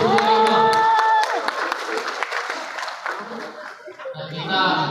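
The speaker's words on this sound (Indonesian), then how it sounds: "Tepuk tangan dulu untuk beliau." Audience applause at a community gathering of Bundo Kanduang and Niniak Mamak in Bengkulu, a steady wash of clapping with some chuckles, under and after a voice speaking over it.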